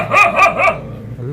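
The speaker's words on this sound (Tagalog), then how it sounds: "Meron lang siyang matapang na aso." A fierce dog at a house with many plants barks three times in quick succession, loud and close, then drops to a low growl.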